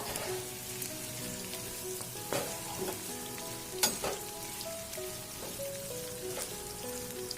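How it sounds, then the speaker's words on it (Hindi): Onions frying in hot oil for an egg biryani: a steady, close crackling sizzle with occasional louder pops and stirring clinks, under soft tonal background sound. "आमे एबे प्याज को फ्राई करि नबा।"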